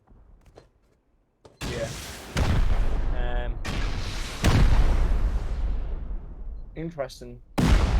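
In the Rust video game, C4 charges blow up base turrets in a run of loud, heavy booms, one after another with rumbling tails, while people talk briefly over them.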